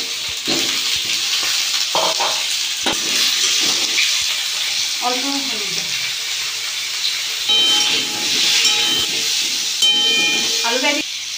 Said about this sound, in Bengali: আলুটা একটু ভাজা হবে